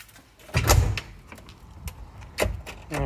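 Back door of a building under construction being opened and pushed through, a few thuds and clunks with rattling and a scraping slide, fairly close and without talk.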